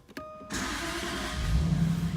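A 2007 Jaguar XK convertible's 4.2-liter V8 cranks briefly and catches, settling into a steady, fairly loud idle rumble through its dual exhaust.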